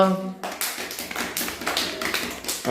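Schoolchildren in a classroom clap together in a burst of quick, irregular claps that last a couple of seconds, starting right after a short spoken cue from an adult.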